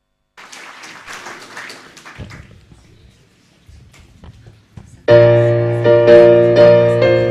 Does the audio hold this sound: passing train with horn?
no